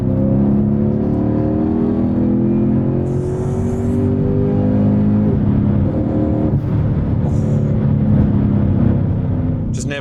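A 2008 Mercedes CLK 63 Black Series with a V8 and a swapped-in manual gearbox makes rev-matched downshifts, a loud, close engine drone whose pitch steps and sweeps as revs rise and fall inside the cabin.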